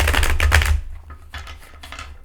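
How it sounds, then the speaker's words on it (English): A Thoth tarot card deck is shuffled in quick riffling bursts: a dense, loud flutter of cards at first, then softer scattered taps and riffles, close up with no talk. "as I shuffle my cards, Thoth Tarot deck,"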